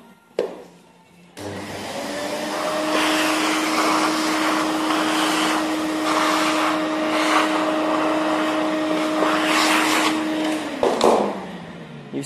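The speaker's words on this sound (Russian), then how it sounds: "Сейчас все это убираем пылесосом." A vacuum cleaner switches on with a thump and runs in a steady, loud whine for about ten seconds, cleaning up dust from freshly filled polyurethane baseboard corners, then winds down.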